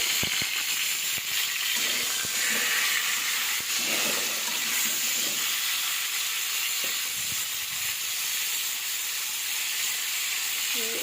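Hog plums and salt being stirred in a hot frying pan for a chutney, a continuous loud sizzle and hiss with scraping stir strokes and soft knocks throughout, close up, no voices.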